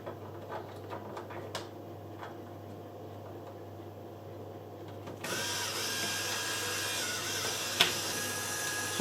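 A small motorized model piston engine starts up partway through and keeps running with a steady, faint mechanical whir and a fine clicking of its valves. Quiet handling noises come before it starts.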